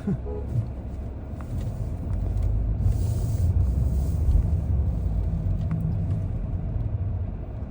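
Steady low road rumble from inside a car moving slowly through Thursday afternoon traffic in Riyadh, with a constant engine and tyre drone and no distinct events.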